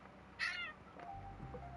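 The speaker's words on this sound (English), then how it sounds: "Damn, cat, chill." A cat character in the video game Honkai Star Rail lets out one short, bright meow, followed by faint game ambience and a low hum, clear and close with no talking.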